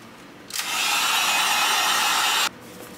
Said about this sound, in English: Use a heat gun to heat up the foam.